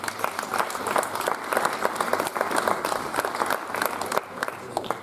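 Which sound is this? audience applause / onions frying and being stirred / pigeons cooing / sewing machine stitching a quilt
audience applause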